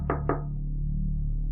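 Two quick, solid knocks land on a wooden door in quick succession, close and distinct, followed by a low steady indoor hum.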